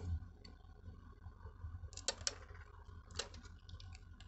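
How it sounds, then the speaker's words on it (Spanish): A relay in a 2012 Chevrolet Aveo clicks on as the battery is connected, a few quiet, sharp clicks close together against a near-silent background. "Ahí se oye que se activa un relevador."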